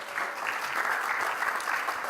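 Crowd at a 2018 National Teach Ag Day live event claps for a panel, a continuous, fairly loud burst of many hands applauding with no talk over it.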